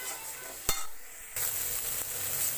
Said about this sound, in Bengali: তো মশলাটা আমার ভালো করে কষানো হয়ে গেছে।